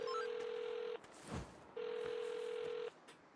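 A burner phone ringing in the Saints Row video game: two long electronic ring tones separated by a short pause, each cutting off cleanly, close and prominent with no talk.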